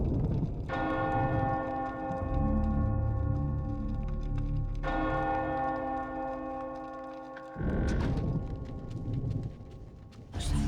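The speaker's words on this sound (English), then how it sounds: "Ring that bell and we can move on." Church bell tolling in the video game Eternal Darkness, three loud resonant strikes with long ringing harmonic decay, each swell fading before the next, with no talk.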